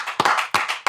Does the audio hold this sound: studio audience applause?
yes